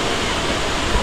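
Rushing water of Tinago Falls roars as a dense, unbroken broadband wash, loud and close, with no voices.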